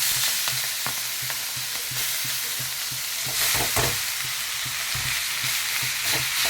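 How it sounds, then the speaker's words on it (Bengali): Beto shaak greens frying with garlic in a pan: a dense, close sizzle with steady rhythmic spatula scrapes and knocks against the pan, slightly louder toward the end. "এই শাকটা রসুন দিয়ে ভাজলে খুব টেস্টি হয়"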